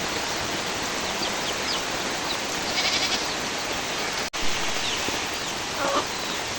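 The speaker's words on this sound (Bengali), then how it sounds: "আজকে দেখুন প্রচুর পরিমাণে বৃষ্টি হচ্ছে" Heavy rain pours down at a cattle farm, a dense, even hiss that holds steady throughout, with no voices and only a brief dropout partway.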